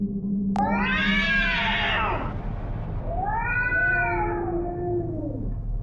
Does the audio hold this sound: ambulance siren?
no